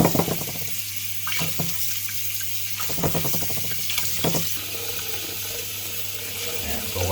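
Tap water runs steadily into a sink as salted intestines are rinsed, a constant close splashing rush broken by brief clatters and sloshes of handling, with no voices.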